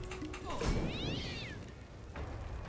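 A cat in the video game Divinity Original Sin II gives one drawn-out meow over game combat noise, with a thump before it and a soft voice near the end.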